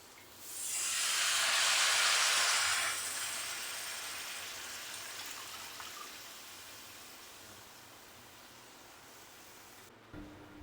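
Washed gourd greens hit a hot pan of spiced potatoes with a loud burst of hissing sizzle that peaks early, then fades into a softer, lingering crackle, ending with a brief clunk.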